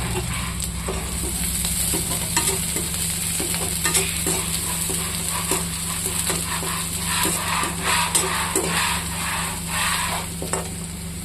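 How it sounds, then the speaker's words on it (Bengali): Chopped garlic fries in a pan for chutney, giving a steady, close sizzle with repeated scraping and stirring clicks throughout and no voices. "সঙ্গে এই রসুনটা দিয়ে দেবো, কুচি করে রাখা রসুন, তো ভেজে নেব।"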